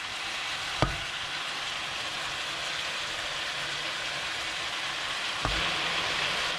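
Steady sizzling and frying noise of chicken searing in a pan for brown stew chicken, a constant hiss, broken by two brief clunks, likely the pan or utensils being moved.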